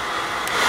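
A hair dryer blows steadily on freshly painted parts of a 1:650 scale U.S.S. Enterprise model kit, a close, loud continuous whooshing whir that swells slightly toward the end.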